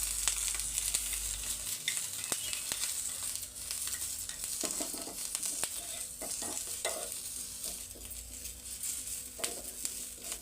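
Onions and green chillies fry in a little oil for an instant dosa chutney, a steady close sizzle broken by stirring scrapes and clicks of a spoon, with no voices.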